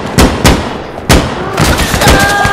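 Close, loud gunfire in the shooter game Insurgency: Sandstorm: three sharp cracks spaced a fraction of a second apart, then a denser stretch of overlapping shots and echoes.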